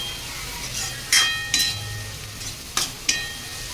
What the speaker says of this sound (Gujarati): 8 થી 10 કળી લસણ છે જે મેં સમારી લીધું છે. તે એડ કરીને પણ બરાબર મિક્સ કરી લેશું